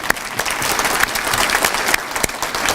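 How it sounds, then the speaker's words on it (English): Audience members at an awards ceremony give a round of applause, a dense, fairly close crackle of many hands clapping steadily throughout. "everybody who I mentioned deserves a quick little round of applause"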